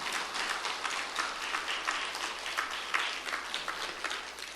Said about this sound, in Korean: 박수 한번 쳐볼까요?